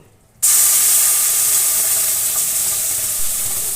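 Carrot paste for halwa hits hot ghee and oil in a kadai, bursting into a sudden loud hiss after a brief near-silence and then holding a steady sizzle.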